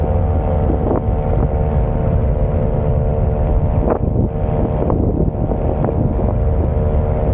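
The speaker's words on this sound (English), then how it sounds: "he's got a 4 horsepower, 2-stroke little motor on it" A small 4-horsepower two-stroke outboard motor drones steadily up close on Mosquito Lagoon, a buzzy continuous hum with wind buffeting the microphone.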